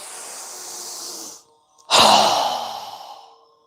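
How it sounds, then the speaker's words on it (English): A single strong, forceful breath out through the nose during yoga breathing practice follows a short quiet pause, loud and close, hissing and then fading over about two seconds. "Strong exhale."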